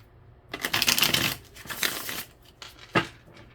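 Tarot cards shuffled by hand in quick riffling bursts, a long papery rustle followed by a shorter one and a final sharp snap of the deck, close and clear with no talking.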